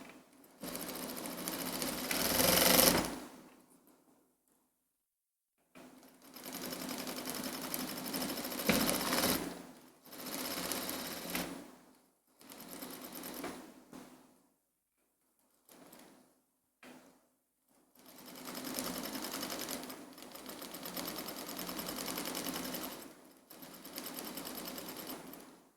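A sewing machine stitches embroidered satin at a very small stitch length, running in several close, steady bursts of rapid whirring separated by quiet pauses while the fabric is repositioned.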